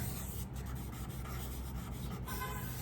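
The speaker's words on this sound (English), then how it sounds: "I'm using the vine charcoal to just lay it in" Vine charcoal rubs and scrapes across paper in a steady, close, soft scratching as a still life is sketched, faint and continuous without talk.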